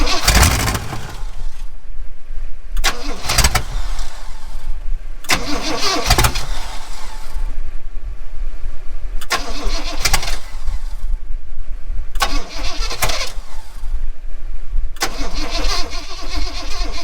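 A 1970 Oldsmobile engine cranks repeatedly in loud bursts of starter whir and sputter, several attempts separated by short pauses, close and alone.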